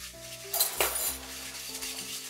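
A whisk taps and clinks against a bowl while mixing chocolate chip cookie batter by hand, giving a couple of bright metallic knocks over a soft swishing stir, close and fairly quiet.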